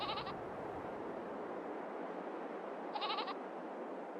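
Farm goats in Farming Simulator 22 let out two short bleats several seconds apart, each rising clearly above a constant low rumble of game ambience.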